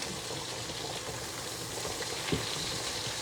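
Potatoes boil on high heat in a pot, giving a steady close bubbling and sizzling texture with a small clunk near the end and no talk.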